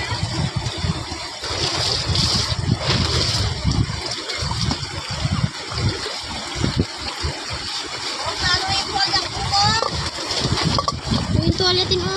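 Water splashing and sloshing as laundry is washed by hand in a river at Panda Beach, loud and irregular throughout, with people talking over it.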